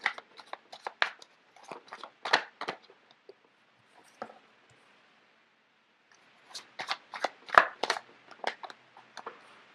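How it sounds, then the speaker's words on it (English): Tarot cards are shuffled close by in two bursts of quick, crisp riffling and slapping, separated by a quiet pause, with no speech. "let me just get the cards out first of all."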